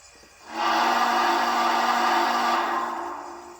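A model steam locomotive whistle sounds once, a sustained breathy tone held for about two seconds before fading out.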